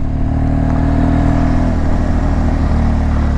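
A BMW 1200 motorcycle engine running on regular gasoline idles and revs close by, a steady low rumble with a brief dip in pitch, no voices.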